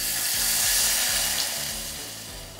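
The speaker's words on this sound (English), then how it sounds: "I've actually already turned the heat on, so this is gonna simmer when we pour it in" Cream is poured into a pre-heated pan for a chocolate cake ganache, giving a loud, steady hissing sizzle that starts at once and slowly fades as it settles toward a simmer, with no talk.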